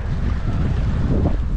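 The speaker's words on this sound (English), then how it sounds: "You can see how windy it is." Strong wind gusts buffet a riverbank during a cold springtime fishing trip, a loud steady roar of rushing air and mic buffeting filling the whole moment with no speech.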